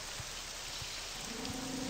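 Steady rain falls in the Morrowind game world, a dense, even hiss with faint scattered drop taps throughout and no voices.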